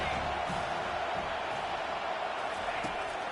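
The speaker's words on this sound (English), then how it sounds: "how nice is it to have the home crowd going absolutely bananas?" A home crowd at a football game keeps up a loud, steady roar, a dense wash of cheering noise with no break.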